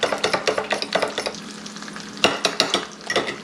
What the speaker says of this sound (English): Whisk it with a fork, you know what it is.